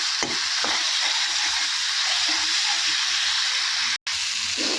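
Bottle gourd and onion fry in oil with a dense, continuous hiss and sizzle close up, with a few soft stirring scrapes and a brief drop in sound near the end.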